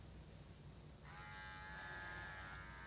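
Electric clippers trimming the top of a cocker spaniel's head, starting abruptly about a second in and then buzzing steadily and close up, alone without talk.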